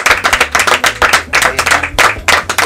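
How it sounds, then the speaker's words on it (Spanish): Rhythmic clapping from a studio audience of patients at a community radio show, close and loud, with hands striking in quick repeated bursts and short gaps between phrases. "un aplauso para todos"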